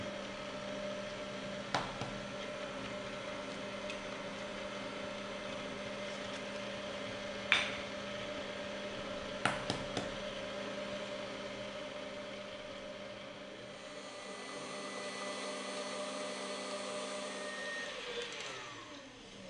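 An electric mixer creams butter and sugar for a Belizean black cake, a steady, even motor whir throughout with a few brief knocks and clatters, no one talking.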